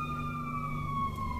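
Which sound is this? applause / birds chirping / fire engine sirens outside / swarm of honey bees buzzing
fire engine sirens outside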